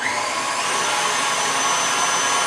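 An electric stand mixer with a whisk attachment whips butter for a chocolate cake, giving a steady, loud motor whir that runs unbroken throughout with no talking.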